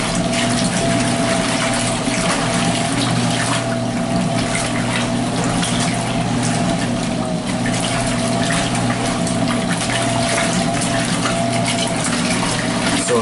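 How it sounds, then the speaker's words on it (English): Water churns and swishes continuously inside a Laundry Alternative Superpop spin washer, loud and close, over a steady low motor hum with no pauses. "The loudest noise you can hear when you're next to this washer is the water, not the motor."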